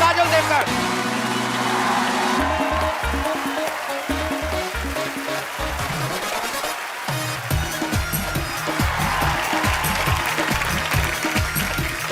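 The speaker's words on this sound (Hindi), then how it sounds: "तालियां और जोरदार होनी चाहिए।" Sustained audience clapping and cheering fills a TV comedy show studio, loud and continuous, with music and amplified sound mixed in.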